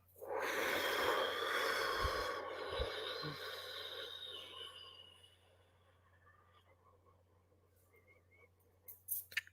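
A deep, forceful exhale during a breathing exercise: one long, loud blow of breath lasting several seconds that fades into quiet room tone.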